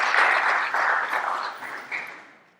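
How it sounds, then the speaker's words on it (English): An audience applauds a welcomed guest, Dr. Peter Orris, at a talk on chronic disease and life expectancy, with steady mid-level clapping that swells, then fades out over about three seconds, with no voices. "Could you all give Dr. Peter Orris a hand?"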